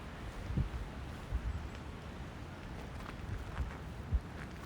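Steady outdoor wind rushing and buffeting a microphone in cold weather, with occasional low thumps from gusts; no one speaks.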